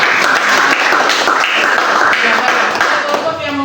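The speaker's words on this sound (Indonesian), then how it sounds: "Kita beri tepuk tangan." A group claps together in a brief burst of applause, dense and even throughout.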